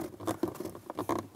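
Rubber seal on a 2015-or-later Ford F150 dashboard being pushed back into place during a dash accent light install, giving close, rapid rubbery patters and soft scratches in short uneven bursts with no voices.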